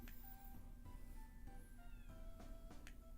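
Several faint cat meows from the video game Rudolph the Red-Nosed Reindeer on Nintendo Switch come in a row, thin and drawn out over a low electronic background hum.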